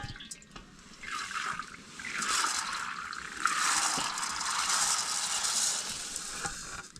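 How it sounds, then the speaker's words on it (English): Rice being washed by hand in water, with steady sloshing, swirling and trickling close by for the whole stretch, growing a little louder partway through, and no talking. "So we're going to wash it like this."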